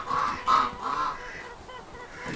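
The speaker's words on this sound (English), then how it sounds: "Then I've got Muscovy's trying to figure out the chicken coop." Muscovy ducks near a chicken coop give a few loud, close, nasal honking calls in quick succession, then quieter, shorter calls trailing off.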